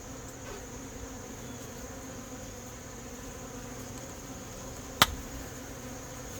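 Carniolan honeybees swarm around the outside of a horizontal hive during a late-season inspection, a faint steady hum of buzzing wings with one brief sharp click partway through.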